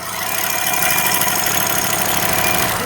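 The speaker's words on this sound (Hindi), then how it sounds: "अभी इंजन का साउंड सुने आप" A Toyota Camry Hybrid 2020 engine idles steadily up close after a tune-up and catalytic cleaning, a smooth, even hum with a faint rhythmic ticking and no voices over it.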